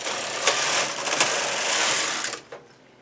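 A knitting machine carriage pushed leftward across the needle bed while knitting a graphic diamonds blanket, a loud, continuous rushing whirr and clatter lasting about two and a half seconds, ending with a couple of clicks before going quiet.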